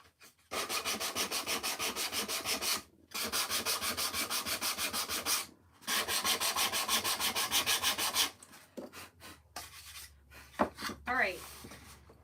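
Dried glue being sanded off wood on a dollar-store organizer project, with long runs of steady back-and-forth rasping in close, loud, rhythmic strokes broken by short pauses, then some lighter scraping and handling noises near the end.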